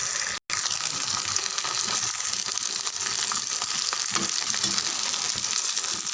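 Rice vatthal crisps fry in hot oil with a loud, steady, bubbling sizzle that runs the whole time, broken once by a split-second gap.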